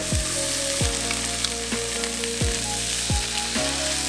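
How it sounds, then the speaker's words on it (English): Diced onions and black beans sizzle in olive oil in a pan, a steady frying hiss with a few brief low thumps from stirring, close and fairly loud. "Let's add in a little bit of olive oil to our pan, and we're going to add our diced onions and our black beans."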